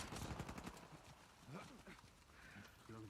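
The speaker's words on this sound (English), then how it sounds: "The sound of gunfire." Rapid automatic gunfire in the Uncharted multiplayer video game crackles in a quick burst, then gives way to scattered shots and game sounds under a voice.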